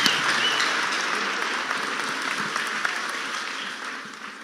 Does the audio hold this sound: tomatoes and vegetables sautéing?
no